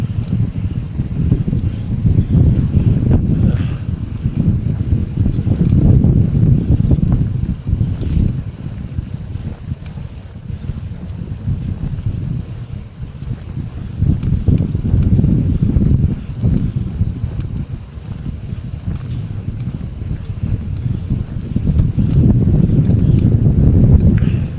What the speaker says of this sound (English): Here we go, got some of that wind.